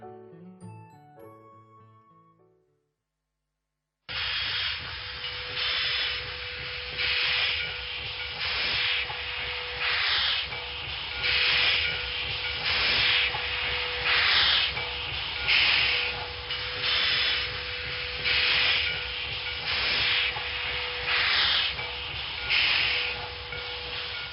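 Steam train hissing and chuffing in a rhythmic, pulsing pattern, loud and close, with a faint steady tone running beneath, preceded by a few seconds of music before a brief silence.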